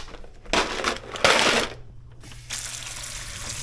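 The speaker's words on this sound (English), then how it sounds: "I gotta fill this with cold water." Cold tap water pours into a container in a kitchen, a close hissing splash that starts, briefly stops and resumes, then settles into a steadier, softer stream under a low hum.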